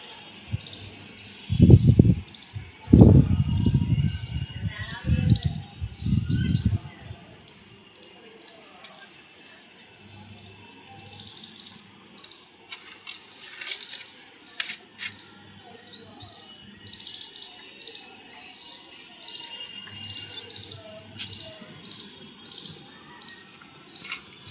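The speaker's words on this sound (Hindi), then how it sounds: "देखिए एक चिड़िया बैठी हुई है बहुत प्यारी सी।" A small, sweet-looking bird perched outdoors in the shade of a neem tree gives repeated high, thin chirps in short clusters, fairly faint, over a quiet background with a few louder rustling thumps early on.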